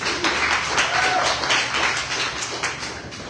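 Audience applause and cheering for a guest sponsor at a travel and financial freedom event, dense and fairly loud for a few seconds.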